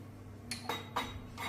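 A cooking pot being handled while making traditional Khandeshi wheat chik, several sharp metallic clinks and clanks in quick succession over a low background hum, close and moderately quiet.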